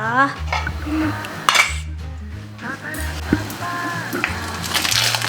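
Metal clanks and clinks from a pot of Korean ramyeon with mushrooms and egg as its lid is handled and set down, several sharp knocks scattered over a kitchen background with someone speaking at moments.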